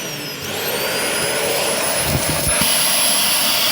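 A vacuum cleaner runs loud and close with a steady roar and rising whine, sucking up debris with a few brief rattles and clatters partway through.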